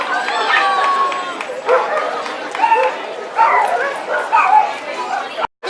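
Husky dogs in Halloween costumes bark, yip and whimper in short bursts close by, with people chattering in the background.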